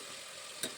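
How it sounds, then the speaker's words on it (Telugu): Tomatoes fry with onions and green chilies in a pan for chicken pulao, a brief, steady hissing sizzle close by with a quick stirring scrape at the end. "తర్వాత టమోటాలు వేసుకొని బాగా ఫ్రై అవ్వనివ్వండి."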